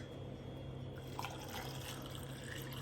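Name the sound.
water being poured into a pot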